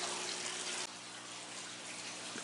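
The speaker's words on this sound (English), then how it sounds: "Here we have a bubbling brook, a waterfall" Indoors in a wildlife museum, a bubbling brook and small waterfall make a constant, fairly quiet hiss of running water that continues without a break.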